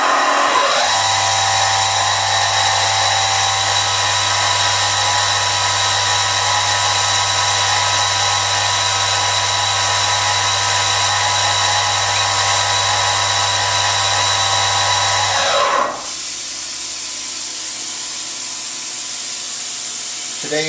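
A Fadal VMC 4020 CNC vertical mill spindle, a 2006 machine with Fanuc 18iT control, runs steadily at 6000 RPM, giving a loud, constant whine with a strong low hum for about fifteen seconds before it cuts off and quieter background remains.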